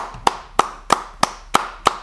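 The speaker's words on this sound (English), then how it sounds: "Yeah, I'm clapping for real." A single person claps hands six times at a steady, even pace in a podcast studio. Each clap is close, sharp and clear against quiet room tone.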